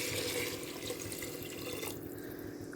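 Water poured into a pot of soaked rice for vegetable biryani, a steady running splash close by that carries on throughout with no talk.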